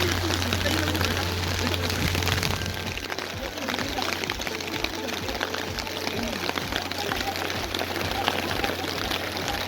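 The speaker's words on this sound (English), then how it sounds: "And now it is hailing." Hail falling during a storm on a mountain outing, a dense, steady patter and hiss of impacts, with a low hum early on and continuous clatter throughout.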